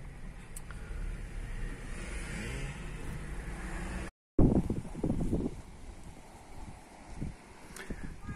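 A car drives through the streets of Novorossiysk, giving a continuous rumble of engine and road with wind buffeting the microphone. There is a short gap of silence partway through.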